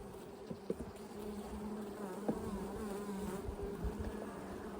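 Honey bees hum steadily up close at an open hive, a dense continuous buzz with a few brief louder passes, no voices.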